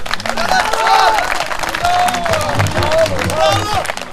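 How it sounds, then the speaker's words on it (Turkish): Audience applause and cheering at a village summer festival in Beştepe Harmancık, Turkey, a dense, steady wash of clapping with crowd voices and whistles mixed in, loud and close throughout. "Öncelikle medeni cesaretlerinden dolayı çok kuvvetli alkışlıyorum."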